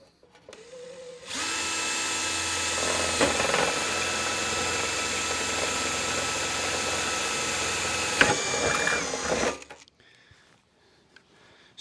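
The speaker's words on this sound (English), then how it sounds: "So I drilled right through the bead of caulking." Power drill boring through a bead of caulking into sheet metal, a steady close, loud whine that runs for about eight seconds, then cuts off abruptly, leaving quiet handling noise.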